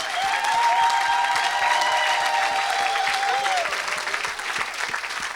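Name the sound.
congregation applauding and cheering in church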